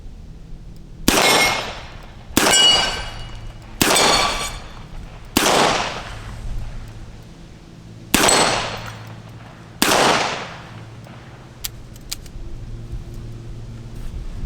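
Six loud revolver shots from a Ruger Security Six fired at steel plates, each a sharp crack with a ringing tail, spaced roughly one to two seconds apart, followed by faint small clicks.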